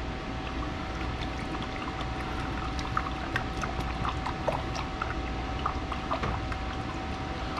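Liquid glugs steadily from a 5-quart jug through a wide funnel into a Silverado truck, a continuous rushing pour heard close up with light splashing and no talk.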